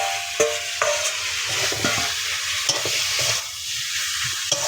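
Taro stolons and prawns stirred together in a wok while frying in spices, a steady close sizzle broken by repeated spatula scrapes and knocks against the metal, fairly loud and continuous.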